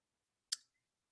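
One computer mouse click, a single sharp close tick in near silence.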